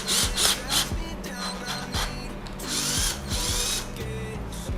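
A Kova 20V cordless drill spins a flexible drill shaft, making short whirring motor bursts with rattling, clicking mechanical noise, starting and stopping repeatedly at close range.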